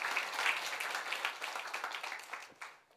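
A church congregation claps during a Sunday morning worship service, the clapping steady and moderately close, tapering off toward the end.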